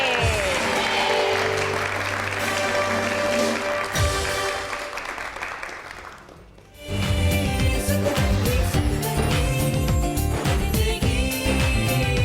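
Applause from a studio audience on a cooking show, loud and sustained. It fades briefly around the middle, then swells back to full strength.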